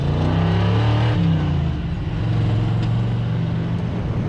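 An old Ford F100 truck engine runs steadily and pulls away, a loud, close, continuous low rumble with a slight dip and rise in pitch and no talking over it.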